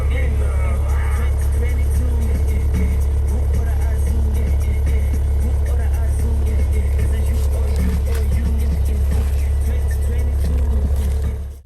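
A Maserati Levante's engine rumbles steadily, loud and low throughout, while people talk over it.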